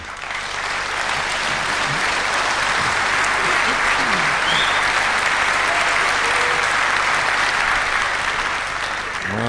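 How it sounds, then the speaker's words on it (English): A snooker crowd applauds steadily and warmly for several seconds at the 2004 Masters, a dense, even clatter of clapping with a faint voice briefly underneath. "generous round of applause for that effort."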